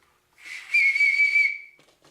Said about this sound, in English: So you got a whistle.